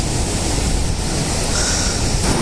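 Sea waves roll in at Cox's Bazar near Sugandha beach, a steady, dense surf roar with wind blowing across the microphone, continuous and fairly loud throughout with no voices.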